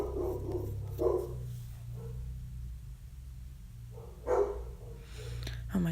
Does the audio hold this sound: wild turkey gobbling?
no